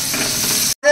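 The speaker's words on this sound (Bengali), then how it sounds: "রসুন কুচিটা এর মধ্যে দিয়ে দেবো" Chopped garlic fries in butter and flour, a dense, close sizzle that stops briefly before a louder burst of frying returns.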